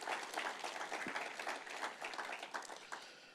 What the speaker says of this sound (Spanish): Vamos, aplaudan al Señor en alabanza.